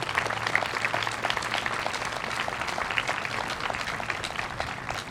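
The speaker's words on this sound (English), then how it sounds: "Big round of applause." Applause from the audience at a school moving-on ceremony for graduating students, a sustained crowd of clapping hands that stays level throughout with no voices on top.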